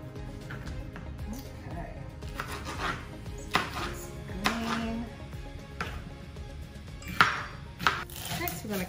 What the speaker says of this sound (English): We're gonna cut up some onion.